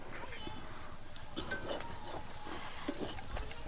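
Spice masala with ground coriander and cumin frying in a pan while being stirred, a steady low sizzle with scraping strokes and occasional light clinks of a utensil against the pan, with a voice speaking over it.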